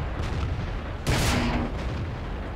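A single heavy tank cannon shot in World of Tanks, one loud broadband boom with a short rumbling tail over a steady low engine and background drone, with no talking.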